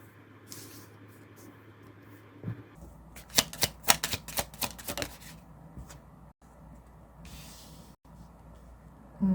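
Tarot cards are drawn and shuffled in a quick run of crisp slaps and flicks, close and clear, between quieter stretches of soft handling.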